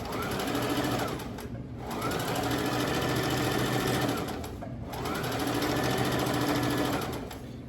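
A sewing machine with its tension set too tight stitches fabric in two long whirring, rattling runs, close and loud, separated by a brief pause, with no talk.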